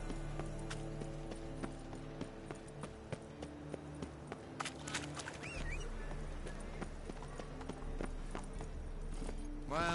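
Hooves clop rapidly and rhythmically as a horse gallops in The Witcher 3, moderately quiet beneath layered game ambience and tonal hum, with a brief burst of other effects near the end.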